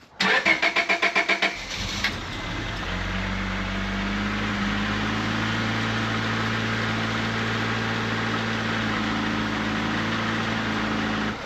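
A cheap car's engine starting after the distributor was put back together: a rapid rhythmic starter crank for about two seconds, then the engine catches and settles into a loud, steady, close idle with a low rumble.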